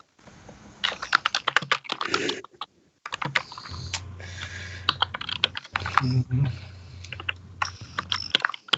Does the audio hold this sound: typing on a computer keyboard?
yes